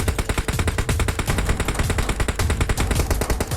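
Rapid automatic gunfire from the video game PUBG Mobile hammers loudly and close in fast, continuous bursts of sharp shots throughout, with no talking.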